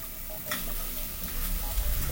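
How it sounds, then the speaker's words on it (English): Masala spices frying and bubbling in hot oil, a steady soft sizzle with occasional stirring scrapes, close and continuous. "keep on cooking the masalas until it has got that raw masala smell"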